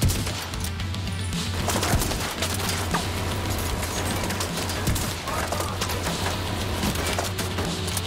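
Steady gunfire from the video game The Division 2 (Warlords of New York), a dense run of rapid shots and impacts over a constant low drone, loud and continuous throughout.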